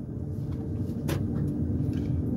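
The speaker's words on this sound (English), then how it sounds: "I'm driving through the residential area of Poolesville." A car drives through a residential area of Poolesville, Maryland, with a steady low engine and road rumble heard from inside, fairly quiet and even, with one brief hiss partway through.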